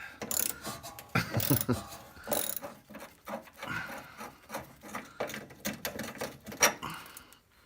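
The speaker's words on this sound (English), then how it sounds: "Let's see if I can get it out with this small wrench." A small wrench works a bolt loose on Porsche 914 front suspension. The metal clicks, scrapes and ratchets in close, irregular bursts, with no voice over them.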